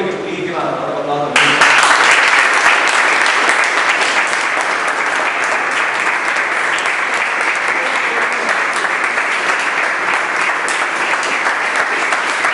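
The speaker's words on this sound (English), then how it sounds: "I would like all of you to please give a round of applause." Students at an English literature farewell function break into loud, sustained applause after a brief moment of quieter sound, the dense clapping filling the room steadily until the end.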